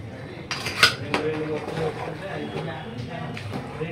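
Chicken curry being stirred in a pot, a metal spoon clinking and scraping against the vessel in several close, sharp knocks while a person talks.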